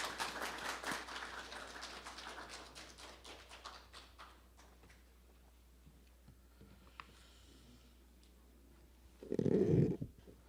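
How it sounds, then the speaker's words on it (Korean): Applause from an audience at an academic conference opening ceremony welcomes the keynote speaker, a burst of clapping that thins out and fades over several seconds, followed by quiet and a brief low thump near the end. "원장님의 뜨거운 박수를 맞이해주시면 감사하겠습니다"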